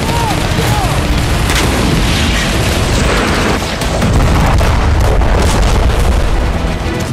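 Russian artillery firing during the war in Ukraine, a dense, continuous roar of booms and blasts that stays loud throughout, with speech-like sounds mixed in.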